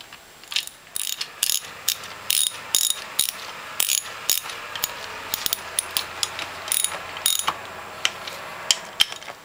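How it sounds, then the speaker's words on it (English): A ratchet wrench tightens bolts on a Norwalk juicer during hydraulic spring replacement, giving rapid close clicking bursts in an uneven rhythm with brief pauses between strokes. "And we tighten down the rest of the bolts."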